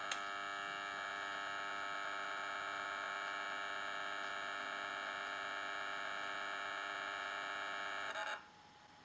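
A magnetic tape deck loads and threads a tape, giving a steady electrical hum and whine held for about eight seconds before it cuts off abruptly near the end.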